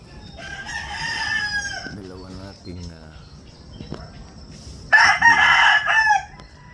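Gamefowl roosters of the Sweater and Gilmore breeds crow loudly, one long crow early and another near the end, over a steady background of insects and clucking, with someone talking in between.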